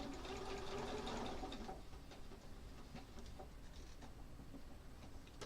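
A sewing machine stitches a quilt block, its motor hum and rapid needle chatter running steadily and close, louder at first, then settling into a quieter continuous whir; no one speaks.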